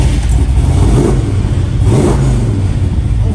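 A 1970 Chevrolet Chevelle engine with EFI fuel injection revs loudly and close, a deep rumbling roar that swells twice and holds throughout.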